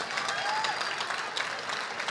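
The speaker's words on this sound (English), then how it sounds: "applause" A crowd at an auctioneer championship gives a steady round of applause, dense clapping that fills the whole stretch evenly with no break.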